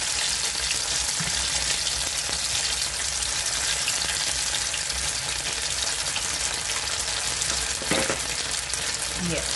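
Cornmeal and oatmeal porridge is stirred in a pot on the stove, a continuous bubbling, sizzling simmer with soft scraping turns of the spoon, close and steady throughout.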